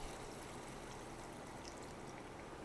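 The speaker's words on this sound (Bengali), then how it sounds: "পানি দিয়ে দিব, গরম পানি।" Hot water poured into a pan of cooking curry, a soft continuous trickling splash, faint and steady, with no voices.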